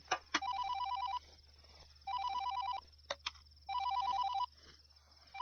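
A telephone rings in three repeated electronic bursts with short pauses between them, loud and close, with a couple of sharp knocks and no talking.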